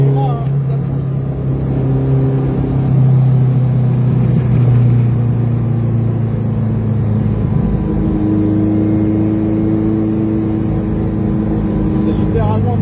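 A Vespa 400 microcar's small engine pulls hard and drones steadily throughout, heard from inside the car on a short circuit, its pitch rising as it accelerates, with a voice talking over it.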